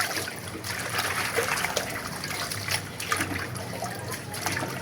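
Leafy greens being rinsed in water, with steady trickling and light splashing close by, broken by brief louder sloshes throughout.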